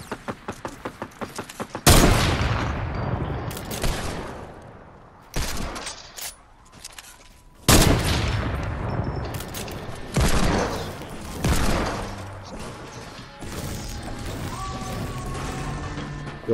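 Bursts of gunfire from a Fortnite match, with rapid clicking shots at the start, then several loud, sharp volleys and blasts separated by short pauses, near and prominent without talk over them.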